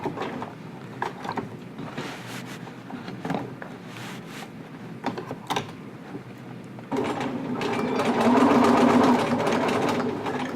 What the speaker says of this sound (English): we're just going to sew around that rectangle